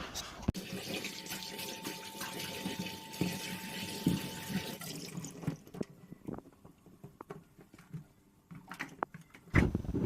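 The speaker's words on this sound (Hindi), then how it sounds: "पहले गाजर ज़्यादा थी ना, तो इनको धो दिया अच्छे से, और फिर टमाटर धोई, फिर मिर्च धोई।" Tap water running in a kitchen sink while carrots, tomatoes and chillies are rinsed, a steady splashing stream with handling clatter that stops partway, leaving occasional clinks and drips.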